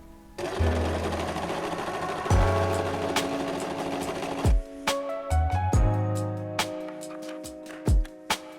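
A sewing machine stitches stretch knit fabric with a stretch needle, running in several short bursts of fast, humming needle strokes separated by sharp clicks and pauses, close and clear.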